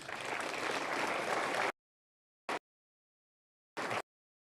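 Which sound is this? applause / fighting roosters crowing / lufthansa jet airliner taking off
applause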